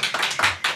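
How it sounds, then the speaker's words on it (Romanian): A few sharp claps ring out for Alexandra during a podcast, about four distinct hand strikes in under a second, close and dry with no talking over them. "Aplauze pentru Alexandra!"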